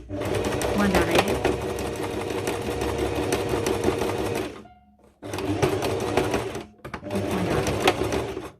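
Sewing machine running fast, stitching a backstitch on fabric, with a continuous loud motor hum and needle rattle, briefly stopping twice before resuming.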